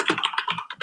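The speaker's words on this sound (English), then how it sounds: "Please stop typing." Rapid, irregular clicking of keys on a computer keyboard, close and fairly loud, with no talking.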